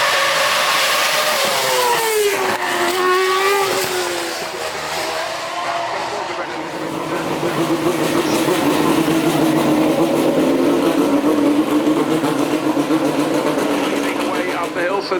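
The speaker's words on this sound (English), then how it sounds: "So this is the Renault E20 from 12 years ago, running in the livery of Scott Speed." A 2012 Renault E20 Formula One car with a 2.4 litre V8 in Scott Speed livery at the Goodwood Festival of Speed: loud, close, shrieking revs rise and fall, then settle into a sustained howl, with voices underneath.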